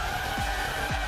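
A race car engine in rFactor 2 sim racing at Spa-Francorchamps revs on the start grid, a loud continuous drone with two quick rising pitch sweeps.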